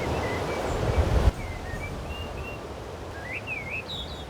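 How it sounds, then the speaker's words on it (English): Eurasian blackbird song in the autumn forest of the video game Skyrim: scattered, fluting whistled phrases rising and falling at moderate distance, after a brief rustle, over soft wind-like ambience. "Eurasian blackbird,"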